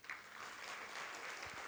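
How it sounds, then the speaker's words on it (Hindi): An audience at a spiritual gathering in Indore breaks into clapping, a dense, steady burst of applause filling the short stretch without speech. "ताली बजाओ।"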